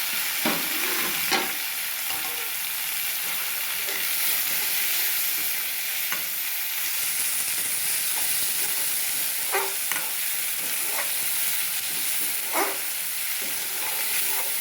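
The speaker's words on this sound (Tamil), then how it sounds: "தக்காளி கொஞ்சம் நல்லா வதங்கிட்டோம்." Chopped tomatoes sauté in a frying pan, giving a steady bright sizzle with occasional scraping clicks from stirring, heard close and continuous.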